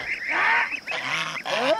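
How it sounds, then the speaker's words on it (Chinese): Two large, old domestic geese on a rural farm honk loudly and close by in three harsh, drawn-out calls with brief gaps between them. "我要抓这两只大鹅去"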